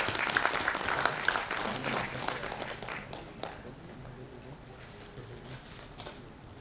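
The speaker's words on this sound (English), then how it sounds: "Please welcome him with a huge round of applause." Applause from a summit audience in Delhi welcoming a speaker on stage, a dense patter of many hands that is loudest at first and gradually thins and fades over several seconds.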